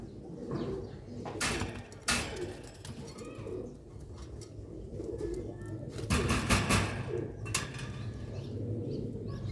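Old Sialkoti pigeons coo softly and repeatedly, with a few sharper chirps and rustles over a steady low background hum.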